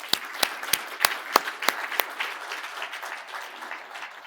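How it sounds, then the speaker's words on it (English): A gala dinner crowd gives a round of applause for a council, opening with a few sharp, separate claps that quickly swell into steady, moderately loud clapping from many hands that holds to the end. "I want to then thank Deborah and the Council with a round of applause for their tireless efforts"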